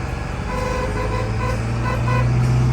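A large LBZ Duramax diesel pickup truck horn gives short, thin, clown-car-like honks in a repeating pattern over a loud, steady engine rumble.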